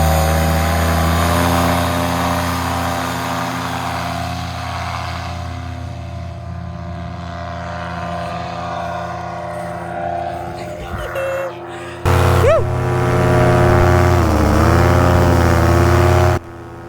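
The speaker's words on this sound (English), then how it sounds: "Just had some motor hesitations there." A small aircraft engine drones steadily during a climb, its pitch wavering and dipping as the motor hesitates midway, followed by a louder, rougher surge and further unsteady revving near the end.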